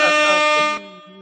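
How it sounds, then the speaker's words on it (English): A blaring air horn sound effect fires in one loud, sustained blast that cuts off abruptly before a quieter trailing tone, with no talk over it. "Everybody fucking air horns for Miss October 30."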